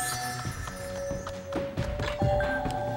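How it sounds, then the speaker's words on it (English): A beam being pushed into place in the Skylanders: Spyro's Adventure video game, a series of dull thunks and thuds at an irregular pace over steady game music. "And push this beam in place."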